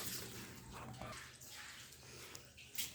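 Water being swept down a stairway with a broom, a steady wet swishing and splashing that runs continuously with a brief louder splash near the end.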